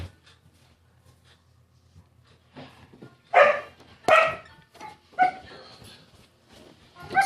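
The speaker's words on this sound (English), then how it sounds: "my dogs are right now out of their cages" Dogs bark indoors in a home kitchen, a few loud close barks and yips in irregular bursts after a quiet start, with small whimpers and clatter between them.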